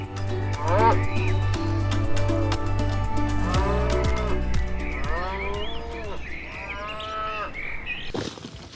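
Bison on a ranch in the United States raised on vast pastures, lowing loudly and repeatedly in long drawn moos from several animals close by, with no talk.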